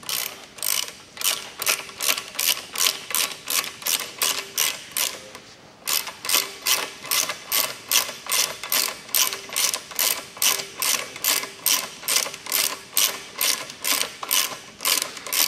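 A 17 mm screw on an intercep plough is tightened with a ratcheting tool, giving steady, regular clicks close up with one short pause midway and no talking.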